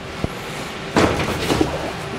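A tram driver's cab door on the first car slides and thumps shut midway through, preceded by a faint click, in a quiet cab with a low background hum.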